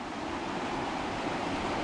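Rapids on the Mures River in rural Romania, a steady, loud rush of broken water running without pause, close by and filling the scene with dense hiss and roar.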